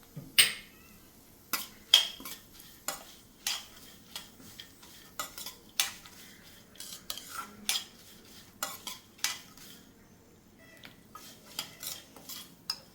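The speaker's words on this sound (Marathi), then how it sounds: "बिया आता भाजत आल्या आहेत। आता ह्यामध्ये मी खसखस घालते।" Seeds and poppy seeds dry-roast in a kadhai while a spoon scrapes and knocks against the metal in a steady series of close strokes over a quiet, faint sizzle.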